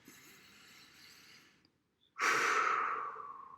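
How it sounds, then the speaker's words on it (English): A person takes a slow, deep breath in through the nose, pauses briefly in silence, then releases a loud, forceful exhale out through the mouth, close to the microphone. "Now I'm going to take a deep breath."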